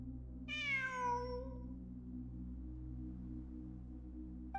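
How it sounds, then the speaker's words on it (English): Cat meowing in the video game Genshin Impact, a single clear, drawn-out falling meow near the start over a quiet steady background hum, followed by stillness. "It really is a cat."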